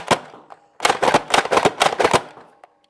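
A Nerf N Series Infinite blaster fires foam darts in a rapid burst of about ten close, sharp mechanical thwacks after a single opening shot, ending with a faint click.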